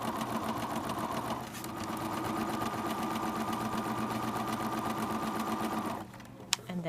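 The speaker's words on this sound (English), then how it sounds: "when I stitch the piping to the project, this first row, which is in essence a basting row" Sewing machine running steadily as it stitches piping onto a project, a fast even mechanical whir with rhythmic needle clatter that stops near the end, followed by a single small click.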